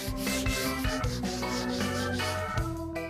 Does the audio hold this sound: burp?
no